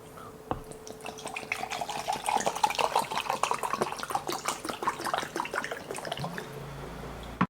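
Water poured into a glass at a spicy chicken adobo mukbang meal: a close, steady trickling pour lasting about six seconds, ending with a soft knock.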